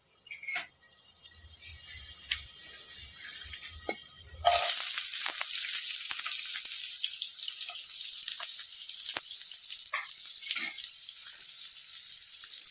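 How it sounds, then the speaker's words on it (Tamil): Onions and vegetables sauté in a pan for a quick South Indian poriyal. A quiet stretch gives way to a sudden burst of sizzling hiss, which continues with scattered crackles and pops. "ஒரு ரெண்டு நிமிஷம் ஓகே சும்மா அப்படியே வந்து வதக்கி விடுங்க"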